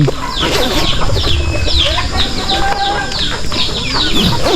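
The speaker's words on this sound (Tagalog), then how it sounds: "Ayan yung mga manok." Chickens cluck steadily and loudly on a farm, with overlapping calls from many birds close by and a busy background of other farmyard noise throughout.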